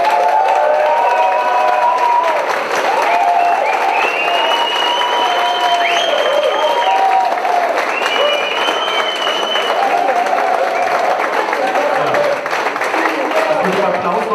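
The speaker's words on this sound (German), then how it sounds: "Ich bitte um einen Applaus für Sven Matthias" Loud, sustained applause from a live audience at a radio-drama event in Germany, with cheering and crowd noise mixed in, holding steady and close for the full length without a break.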